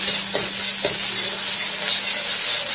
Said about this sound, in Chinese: 然后倒入胡萝卜、火腿肠，炒至5秒钟